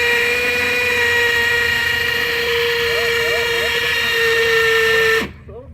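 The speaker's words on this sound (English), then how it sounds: "they recommend that you drill to the size of the screw" A power drill boring holes for Tapcon screws during a stairlift installation, a loud steady high whine with a constant pitch that runs continuously before cutting off abruptly near the end, with a person talking over it.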